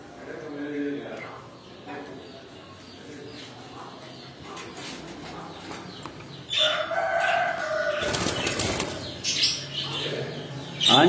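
Parrots and other birds in an aviary give off flapping wings, chirps and squawks at close range, with a louder flurry of activity toward the end, while people talk nearby.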